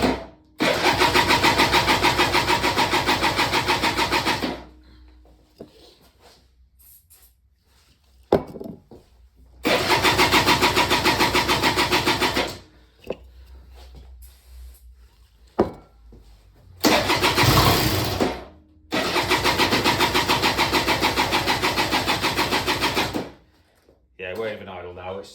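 Peugeot Speedfight 2 100cc scooter engine revving loudly in several long bursts, with quieter idling gaps between them; the scooter has a suspected blockage and runs roughly.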